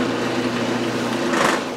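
A metal lathe runs in a slower gear, not back gear, with a steady, loud mechanical drone and hum that holds throughout, swelling slightly near the end.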